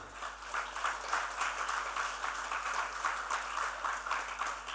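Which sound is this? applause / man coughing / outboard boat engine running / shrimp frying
applause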